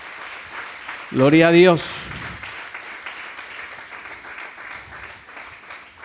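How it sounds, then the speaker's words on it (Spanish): A church congregation applauds during a Spanish-language sermon, with a steady wash of clapping throughout and one loud voice shouting over it near the start. "Dele una ofrenda de palmas al Señor, usted que está aquí."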